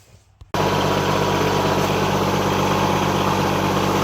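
An AGT NT18K mini excavator engine starts abruptly after a quiet half second and runs at a steady, loud, close idle, with a constant low rumble and no talk.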